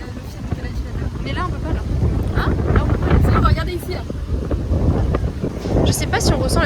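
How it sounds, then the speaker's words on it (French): Heavy wind buffets the microphone outdoors in Algiers, a loud continuous rumbling roar that swells and surges throughout, with people talking faintly beneath it. "on ressent le fait qu'il y a tellement de vent"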